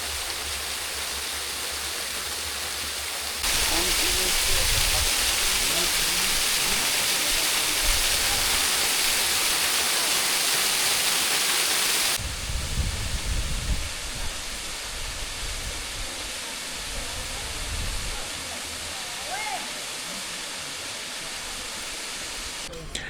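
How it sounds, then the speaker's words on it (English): Rushing waterfall noise on São Miguel Island in the Azores fills the air, swelling much louder for several seconds in the middle before easing back to a steadier, quieter flow. "showcasing the natural topography with waterfalls on both sides of the road"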